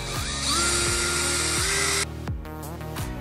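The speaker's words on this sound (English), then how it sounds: "you're going to drill a hole into this sheet metal" A power drill bores a hole into sheet metal HVAC ductwork for a damper install, giving a loud, high whine that rises and holds for about two seconds, then cuts off into fainter clicks and rattles.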